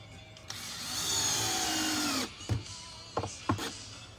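A power drill drives a 2.5 inch screw into wood on a construction job, a rising whine lasting under two seconds, followed by a few short, sharp knocks and clunks.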